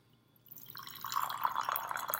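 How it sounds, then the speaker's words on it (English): Hot water is poured into a Yixing clay teapot to warm it, a close, bright trickle that starts quietly and swells into a steady gurgling fill. "You're going to warm up your teapot first."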